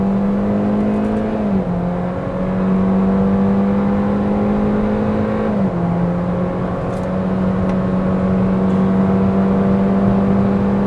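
Cabin noise inside a 2020 Hyundai Venue subcompact SUV at high speed: a loud, steady droning hum of engine, tyres and wind, with two slight pitch drops along the way and no voices.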